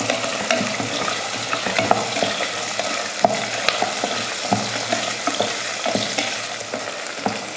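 Whole shallots, six or seven garlic cloves, mustard seeds and curry leaves sauté in hot oil for a tomato kulambu. A steady close sizzle is broken by frequent scraping and clicking stirs, with no voices.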